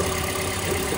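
A Toyota car engine, either an Avanza or a Vios, runs at a steady idle after an oil sludge repair, making a close, continuous mid-low hum through one short second with no talk.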